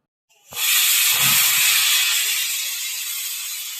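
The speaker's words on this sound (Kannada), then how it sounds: "ಕುಕ್ಕರ್ ಐದಾರು ವಿಶಿಲ್ ಆಗಿದೆ" A pressure cooker cooking dal for a greens saaru lets out a sudden, loud rush of steam that hisses steadily for several seconds, close by and alone, slowly easing off near the end.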